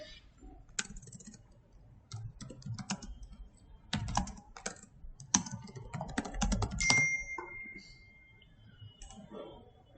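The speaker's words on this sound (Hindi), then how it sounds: "देखो मैं लिख रहा हूँ लोअर फील्ड" Typing a Google search on a computer keyboard in bursts of quick clicking keystrokes separated by short pauses, close and fairly loud, with someone speaking intermittently alongside.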